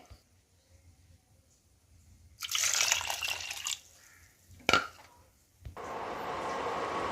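Water is poured into a pot of jaggery, set to melt in a home kitchen: a splashing pour starts, pauses after a sharp knock, then returns as a steady, louder stream.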